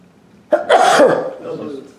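A single loud, close sneeze with a sharp inhale before it, followed by a short breathy tail.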